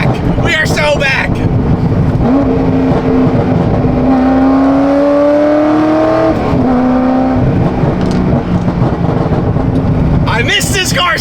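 A Corvette Z06 with an LS7 V8 revs and accelerates hard, its engine pitch rising in long sweeps under excited shouting from people aboard, loud and close.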